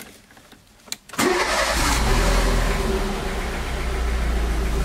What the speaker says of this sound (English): let's start the engine to check